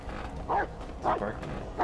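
A dog in the Blair Witch video game barks and yelps in short, agitated bursts, mid-distance and fairly faint, over a dark ambient game background.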